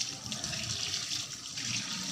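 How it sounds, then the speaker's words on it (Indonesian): Tap water runs steadily over hands being rinsed clean during a handwashing routine, a soft continuous hiss and splash at close range. "Bilas menggunakan air bersih."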